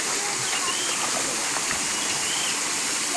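River water streaming steadily over rocks in a shallow, clear stream, a continuous close rushing wash with no pauses.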